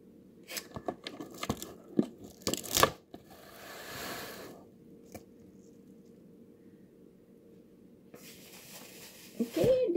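Plastic bag crinkles and rustles in sharp bursts as it is twisted and tied up in a kitchen, followed by a quiet pause and another burst of crinkling near the end.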